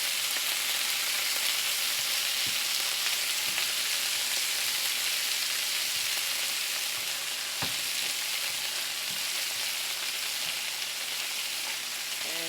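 Jamaican-style oxtails fry with a loud, steady sizzle in a pan, with occasional soft clicks and scrapes as the pieces are turned over, and no voices.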